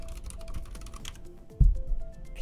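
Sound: computer keyboard typing picked up by the microphone

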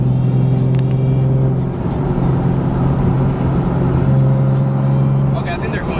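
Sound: cars revving and racing on a freeway

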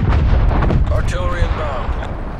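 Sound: artillery fire in video game Call of Duty Black Ops Cold War

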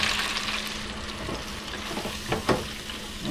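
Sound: catfish frying in a pan

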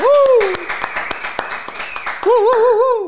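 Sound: applause

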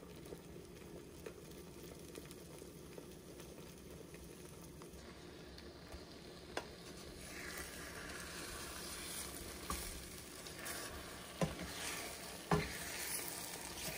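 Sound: liquid egg whites sizzling as they cook in a pan

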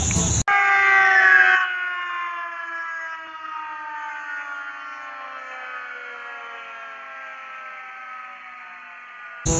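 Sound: fire truck siren

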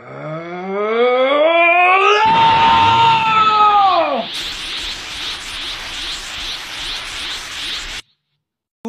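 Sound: person imitating Gohan's scream, Latin Spanish dub

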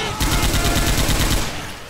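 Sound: machine gun firing in Left 4 Dead 2 video game

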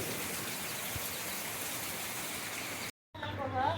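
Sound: rain falling

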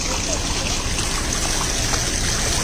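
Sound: water flowing from Elisha's spring

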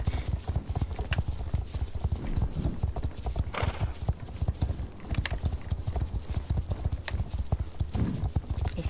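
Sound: horse hooves clip-clop in video game Star Stable Online

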